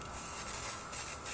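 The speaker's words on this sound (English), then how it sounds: "I don't spray inside because I don't want the paint mixing with the water." A can of gold-effect spray paint hisses in one steady, close burst as it coats a flower box.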